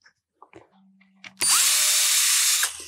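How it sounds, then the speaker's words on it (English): A few small taps and clicks, then a power drill whirs loudly into a guitar body for about a second while installing EMG 81/85 pickups, before spinning down. "And obviously I don't want to drill through the guitar body."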